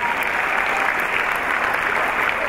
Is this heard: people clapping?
yes